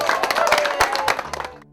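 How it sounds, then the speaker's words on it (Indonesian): Short burst of clapping from a small group of people in a village in Garut, a quick spatter of hand claps close by that fades out within about two seconds. "Tepuk tangan buat Panji"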